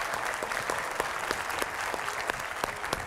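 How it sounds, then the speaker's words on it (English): Warm audience applause in a theater during a science talk event in Oakland, California: steady, dense clapping with distinct individual claps popping out, continuous throughout at close range. "Please give him a warm applause."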